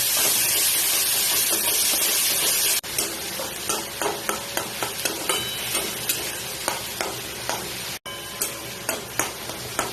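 Capsicum and pomfret fish masala being stirred in a frying pan: a steady sizzle with repeated scraping strokes of a spatula, loud hiss at first, then a rhythmic series of clinks and stirs.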